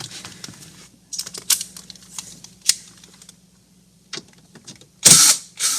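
Screws removed with a T20 bit from a Volkswagen car radio in the dash: scattered close clicks, ticks and small mechanical rattles with quiet gaps, ending in a louder burst of handling noise.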